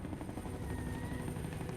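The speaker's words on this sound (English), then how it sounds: "It seems premature to bring in the helicopter." A police helicopter in the Fahrenheit: Indigo Prophecy video game hovers low over the city, its rotor thumping in a steady, loud, continuous drone with nothing else over it.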